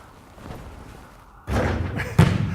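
A basketball shot taken with eyes closed strikes the rim with a dull thud, followed moment later by a second sharper knock, close and brief.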